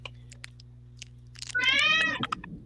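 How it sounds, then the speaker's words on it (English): A domestic cat lets out a single loud, drawn-out meow close by, following a few seconds of quiet room background with faint scattered noises. "whoa, there's a loud cat."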